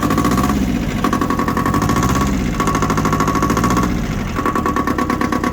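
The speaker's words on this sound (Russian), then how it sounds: "Двухцилиндровый моторчик Исеки работает так же, как и должен" An Iseki TX1300 Japanese two-wheel-drive tractor idles on its two-cylinder engine with a steady, close, chugging knock and rhythmic vibration that surges and dips slightly every second or so.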